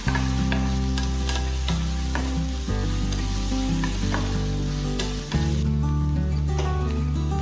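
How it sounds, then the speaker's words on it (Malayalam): Onions frying with salt in a pan hiss in a steady loud sizzle while a spoon scrapes and stirs in repeated strokes up close. "നന്നായി മിക്സ് ചെയ്യുക."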